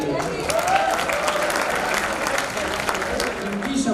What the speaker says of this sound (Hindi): तो जोरदार तालियां बजाइए।